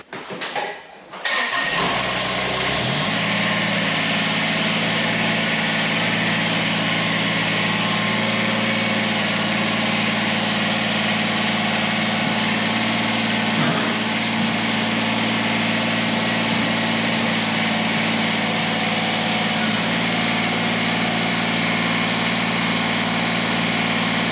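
A tractor engine cranks and catches, then settles into a loud, steady idle that chugs on unbroken, close by and without voices.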